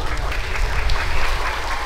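Schoolchildren clapping together in an elementary school gathering, a loud, dense burst of many small hands heard close up and continuing briefly without voices.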